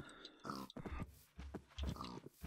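Pigs grunting in a farm video game, several close, rough grunts and snorts in short irregular bursts, fairly quiet, no talk.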